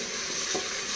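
Ground tomato, ginger, garlic and shallot paste stirred in a hot pan for mushroom biryani, a brief steady sizzle with soft scraping, close and fairly quiet.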